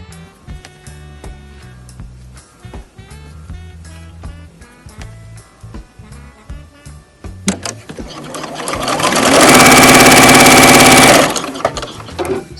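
A sewing machine stitching small fabric scraps together: short stop-start bursts of stitching, then a loud sustained fast run near the end, close and clear.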